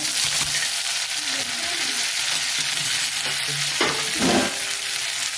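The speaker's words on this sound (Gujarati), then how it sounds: "હવે આપણે ટમેટો નાખી દઈએ." Tomatoes go into a hot frying pan and sizzle loudly and continuously, with occasional stirring scrapes and faint background voices.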